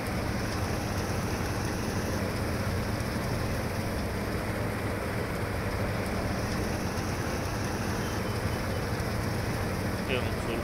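Rain in Farming Simulator 19 on a muddy Argentine farm field, a steady dense patter mixed with a low engine rumble, continuous and fairly close.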